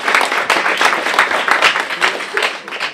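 An audience at a tech presentation applauds a speaker who has just finished, a dense, continuous wash of many hands clapping close by, lively and sustained throughout.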